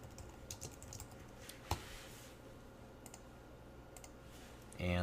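Typing on a computer keyboard while writing JavaScript conditional code, a steady run of light, close key clicks with one sharper tap, ending in a brief louder burst, with no talk.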